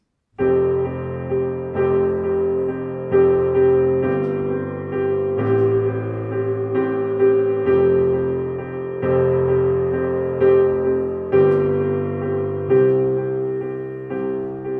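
Piano chords from a bridge played steadily, each chord held for about a second and a half before changing, with a sustained bright tone ringing throughout.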